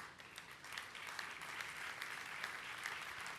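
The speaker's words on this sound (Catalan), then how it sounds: "doncs un fort aplaudiment per al Rafel" Applause at an awards gala for the Premis Talent, a soft, steady wash of many hands clapping from a seated audience, heard at a distance and fairly quiet, with no speech over it.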